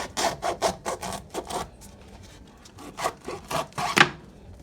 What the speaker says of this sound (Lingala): Alors tozo procéder sikoyo na kokata makayabu na biso.